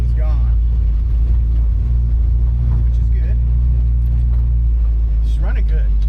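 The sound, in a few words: 1963 Ford Falcon engine running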